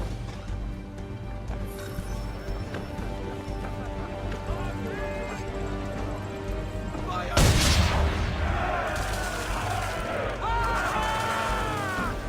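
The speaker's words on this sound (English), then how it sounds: "Now give the swivel guns a turn. More precise. Hit those old powder barrels and light up the sky." Swivel guns fire at old powder barrels in Assassin's Creed 3, a sharp blast followed by a loud burst of explosion and crashing debris. Steady game ambience of wind, ship creaks and background sounds runs beneath it, with no one talking.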